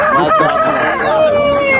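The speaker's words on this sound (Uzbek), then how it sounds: "Mana u 4 ta xo'roz." A rooster crows loudly and close by, one long sustained call lasting the whole moment, with no voices around it.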